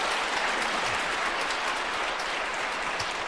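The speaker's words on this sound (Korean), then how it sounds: "다시 한번 감사의 박수 부탁드립니다" An audience applauds in thanks at the end of a church Advent lecture given by a bishop. The clapping is dense and sustained, a steady wash at moderate volume.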